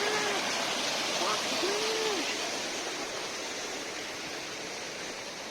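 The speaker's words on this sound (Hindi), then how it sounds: "तो ये राइट बीचों बीच झरना है अपने" A waterfall pours across a mountain trail in the Valley of Flowers on the Hemkund route, a loud, steady broadband rush of water filling the whole clip, with a few faint bird or whistle notes above.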